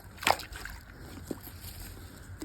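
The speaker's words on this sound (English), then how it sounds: "just put it in the water. It will sink automatically." A pool-cleaning robot's filter dropped into water, giving one sharp splash near the start, then faint sloshing and a small plop as it sinks.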